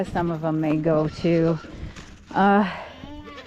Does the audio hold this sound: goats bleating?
yes